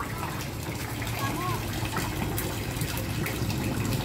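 A strong, steady gush of water runs from a tap, continuous and close throughout, with people talking over it in a family home.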